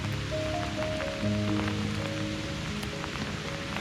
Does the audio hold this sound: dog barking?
no